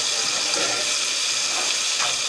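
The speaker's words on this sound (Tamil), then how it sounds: "இப்போ வந்து நம்ம கட் பண்ணி வச்சுருக்க தக்காளி சேர்த்துக்கலாம்" Cut tomatoes hit a pan of frying onions for a fish gravy, giving a loud, continuous close sizzle and hiss with slight crackles throughout.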